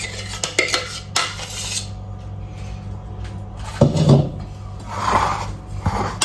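Potato chunks stirred through aioli in a bowl, heard as loud, close clinking and scraping of a utensil against the dish in uneven bursts, with short pauses between strokes and no voices.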